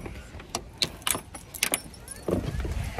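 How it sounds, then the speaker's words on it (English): Someone gets back into a car: keys jangle, a door thuds and there are scattered clicks and rustles of movement, close and fairly quiet, with a short, louder shuffle near the end. "I'm just going to jump back in my car."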